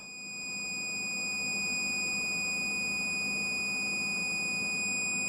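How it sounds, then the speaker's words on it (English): A Dell PowerEdge 1800 server emits a continuous high-pitched electronic beep while its drive array rebuilds, a sustained tone ringing alone without interruption. "I'm hoping this will stop beeping."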